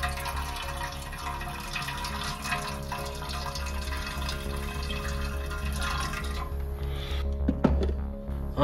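Warm water mixed with dish soap pours into a metal fuel tank for cleaning, a steady watery rush with some drips and a clatter near the end.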